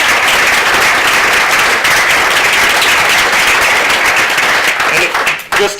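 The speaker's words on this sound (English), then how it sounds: "So can we get a round of applause for Weekly Drop?" A conference audience breaks into loud, sustained applause, dense clapping that fills the room for several seconds before thinning out at the end.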